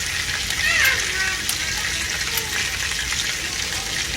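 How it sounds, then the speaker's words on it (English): Meatballs sizzle and crackle in a hot greasy pan as they brown, a continuous frying hiss with a few brief clinks, heard up close. "Got them good and brown."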